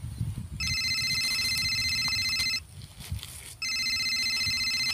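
A telephone ringing in a home, two loud electronic ring bursts separated by a short pause, close and clear over faint background noise, no talk.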